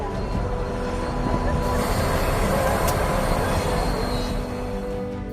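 A train rumbles past steadily at close range, a continuous loud roar of wheels on rail with a brief metallic squeal partway through.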